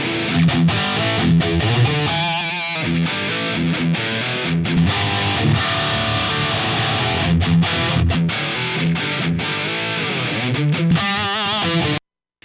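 Distorted electric guitar played through a Line 6 POD Go, a continuous riff and solo moving between 90s metal and modern metal presets, loud and dense, ending abruptly.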